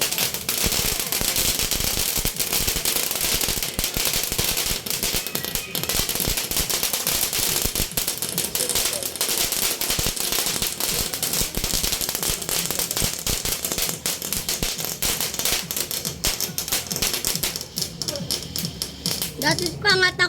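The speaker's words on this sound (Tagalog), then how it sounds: "Do you see it, guys? Fireworks." Fireworks crackle and pop continuously in dense, rapid bursts throughout, loud and unbroken, with people talking and exclaiming underneath.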